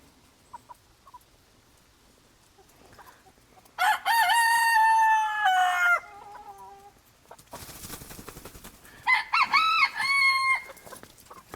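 Hens around a chicken tractor let out two loud bouts of clucking and squawking, one in the middle and one near the end, with quiet scratching and soft sounds between them.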